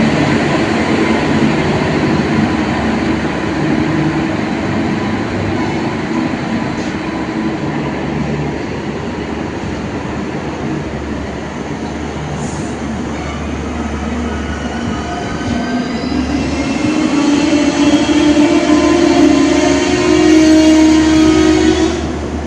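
A late-running Humsafar Superfast Express from Tirupati to Karimnagar pulls into a station with a loud, continuous roar of coaches and wheels, building toward the end where a drawn-out horn or wheel squeal rings out.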